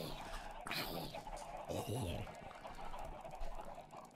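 Chickens clucking inside a pen in Minecraft, several bursts of clucks mixed with game noise and a voice talking over them, fairly faint overall.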